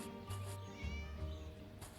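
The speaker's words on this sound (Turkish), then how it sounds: "kedi bağırtıydı" A cat in the horror game Scary Teacher 3D meows in a couple of drawn-out, loud wails, close and clear over a steady game background.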